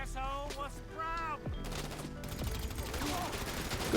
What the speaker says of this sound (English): so let's use the Assault SMG for this grass farm